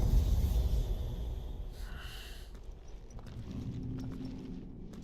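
A horse in the video game Final Fantasy XVI, with rapid hoofbeats and snorting breaths over a rumbling background that fades partway through.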